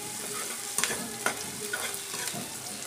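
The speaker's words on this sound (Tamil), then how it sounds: "இந்த கிரேவிக்கு ஒரு நிமிஷம் நல்லா வதக்குங்க" Onions sautéing in a pan for paneer butter masala gravy, with a gentle sizzle under a few sharp spoon scrapes and clinks, close and fairly quiet.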